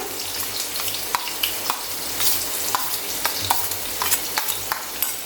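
Finely chopped large onion fries in oil in a pan for an egg curry, a steady close sizzle broken by repeated sharp scrapes and clicks of stirring, with no voices.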